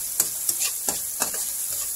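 Onion and garlic sauté in a pan with a bright, close sizzle, punctuated by several quick stirring scrapes at roughly regular intervals, with no speech over it.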